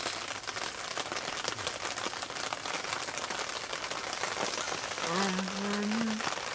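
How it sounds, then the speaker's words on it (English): Rain falling on a gazebo at a campsite, a steady dense patter of drops throughout, with a brief tonal sound near the end. "As you can hear, it's raining."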